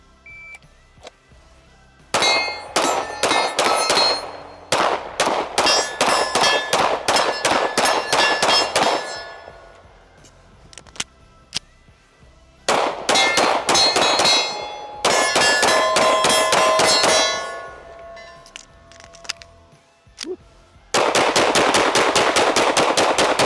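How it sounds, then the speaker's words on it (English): Staccato P 2011 pistol fired in rapid strings during movement drills, each shot ringing off steel targets with sharp metallic clangs, loud and close, in several bursts separated by brief pauses. "We're gonna run this pistol now through some movement, a little bit more quote unquote dynamic shooting."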